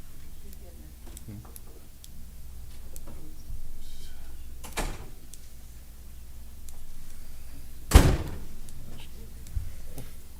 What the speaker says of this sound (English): She slammed the door.